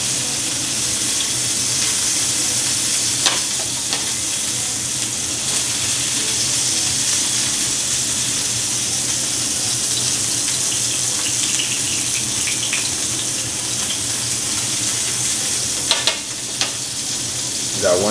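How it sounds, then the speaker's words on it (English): Salmon fillets sear skin side down in a hot pan, giving a steady, loud sizzling hiss throughout with a few faint clinks near the end and no talk. "So we got our salmon searing"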